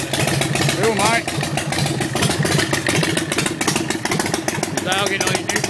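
A chopper motorcycle engine runs loud and close, a steady throaty rumble with uneven clattering pulses throughout, while people talk over it.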